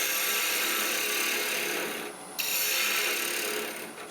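A half-inch bowl gouge hollows a maple burl spinning on a wood lathe, giving a steady close scraping, rasping cut that dips briefly before resuming.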